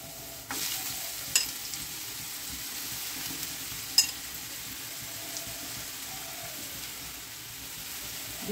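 Radish pieces frying in a pan spiced with cardamom and cinnamon: a soft, steady sizzle, fairly quiet, with a couple of sharp utensil taps.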